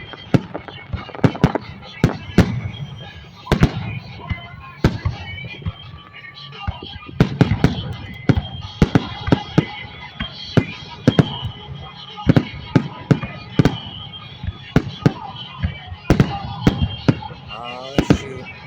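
Fourth of July fireworks bursting in Pahrump, Nevada: a long string of sharp, loud explosions and crackling pops at irregular intervals, some clustered in quick volleys, with voices faintly audible between blasts.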